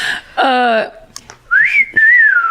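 A two-note wolf whistle, a rising then falling catcall, sounds up close and clear, after a short vocal burst at the start.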